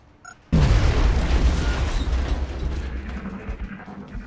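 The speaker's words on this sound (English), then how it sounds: "Throw an alien grenade. Just right there. Blow up that wall." An alien grenade detonates against a wall in the X-COM video game, one sudden heavy boom followed by a long rumbling debris roar that slowly fades.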